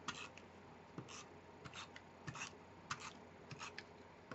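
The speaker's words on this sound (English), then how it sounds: "So now we are going to tape 4 corners and the middle." Scrapbook tape is pulled and pressed onto the four corners and middle of 12 x 12 scrapbook paper, giving a series of quiet, irregular rustling and scraping touches up close.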